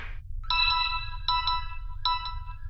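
A mobile phone left lying in a house rings with a bright melodic ringtone, three short chiming phrases repeated at an even pace, fairly faint over a low background hum with no talk.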